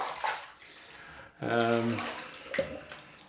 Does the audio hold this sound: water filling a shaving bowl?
yes